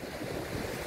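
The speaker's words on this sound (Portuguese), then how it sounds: "Com o vento agora a levantar," Wind rises on the coast at Serra do Bouro during a fishing outing, a loud rushing gust blending with surf into a continuous roar for a brief moment, with no voices.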